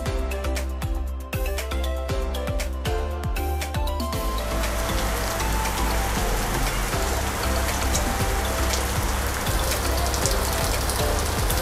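Rain pours steadily onto a surface at Taman Safari Bogor, with heavy dripping taps at first before settling into a dense, constant downpour.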